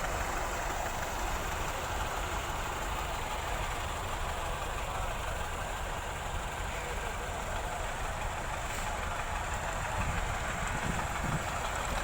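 A tractor arriving at an outdoor tractor gathering in Punjab, Pakistan, a continuous low diesel engine rumble held at a steady level, with a slight swell near the end.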